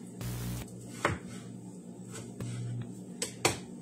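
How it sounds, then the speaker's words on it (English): A knife chops raw chicken on a cutting board, giving a few sharp, separate knocks at irregular intervals over a low, steady kitchen hum. "I'm just going to cut up the chicken real quick while we are waiting"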